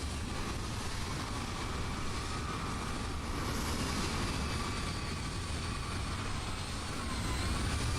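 Continuous broadband roar of a Ryanair airliner moving nearby in Microsoft Flight Simulator 2020, steady jet engine noise with a faint whine, evenly loud throughout.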